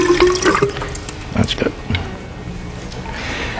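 Deionized water is poured into a chemical solution, a steady running, splashing pour with a faucet-like hiss that lasts throughout, heard close under a man's brief speech.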